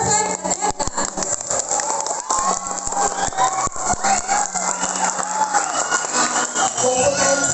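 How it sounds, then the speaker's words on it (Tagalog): Children shout and cheer loudly in a crowd at a vacation Bible school graduation program, a continuous, reverberant roar with scattered claps, heard in a hall. "Huwag po tayong sumigaw,"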